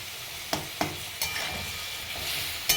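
Spices including asafoetida are stir-fried in a pan with tomato, green chili and ginger, making a continuous close sizzle punctuated by several sharp spatula taps against the pan.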